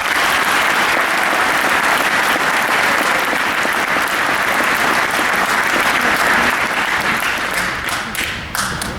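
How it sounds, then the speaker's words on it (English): Sustained, loud applause from a large seated audience at an ALS graduation ceremony, dense clapping that holds steady and then thins out near the end. "Please give a round of applause to the Satellite ALS on-camera instructors, Technical Sergeant Joshua Thorne"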